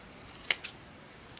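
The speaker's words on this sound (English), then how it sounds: "let me just cut this out" A few quick, crisp snips of scissors cutting out small paper squares for crafting, close and isolated in a quiet room.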